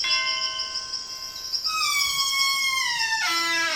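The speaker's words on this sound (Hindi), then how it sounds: "चलो घंटी बजाए।" A cartoon doorbell on a house on a spooky night rings a bright, tonal ding-dong chime in two descending steps, clear and close with no talk over it.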